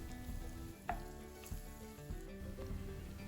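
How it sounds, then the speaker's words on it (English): Flour cooks in a skillet with a steady, soft sizzle, and occasional light scrapes of stirring sound over the hiss. "Let that cook for about a minute or until you don't see any dried flour left."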